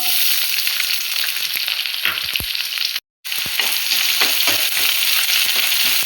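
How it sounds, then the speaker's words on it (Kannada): Finely chopped onions hitting hot oil with curry leaves for a country-style egg masala: a loud, dense, continuous sizzle up close, with scattered spoon clinks and a brief dropout partway through. "ಇವಾಗ ಚಿಕ್ಕದಾಗಿ ಈರುಳ್ಳಿ ಕಟ್ ಮಾಡಿ ಇಟ್ಕೊಂಡಿದ್ದೀನಿ, ಈರುಳ್ಳಿ ಹಾಕ್ತಾ ಇದ್ದೀನಿ."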